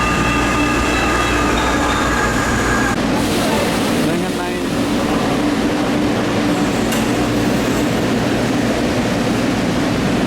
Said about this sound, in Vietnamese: bây giờ đi tàu điện nội bộ để xuống ở về